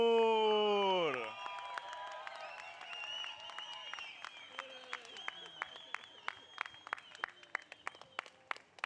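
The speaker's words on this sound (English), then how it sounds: "Big round of applause for Carissa" At the Surf City El Salvador Pro finals, an announcer's drawn-out call gives way to crowd clapping for surf champion Carissa Moore, scattered at first, then building into sharper, more frequent claps with faint background voices.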